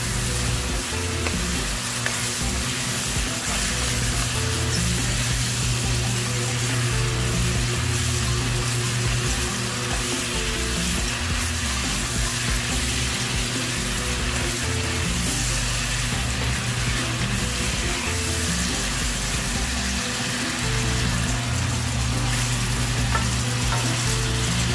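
Chicken curry with curry powder sizzles and fries in a pan while being stirred, a continuous crackling hiss with scraping stir strokes and a steady low background hum, no voices.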